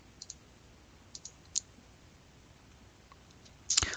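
A computer mouse clicks in a sparse, faint pattern, a few single and double taps spread out, then a louder burst of clicks at the end over quiet room hiss.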